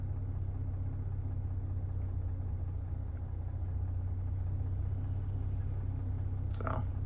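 A Chevrolet Blazer's engine idles steadily while still warming up, a constant low rumble heard close by with a brief faint higher noise near the end.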